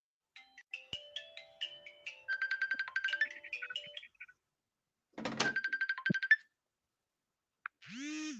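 Electronic ringtone from a telephone, a melodic series of tones repeating in two bursts with short gaps, clear and close, with no talk over it.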